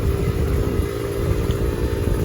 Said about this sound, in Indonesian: sekalian cobain nih motor apakah udah enak atau belum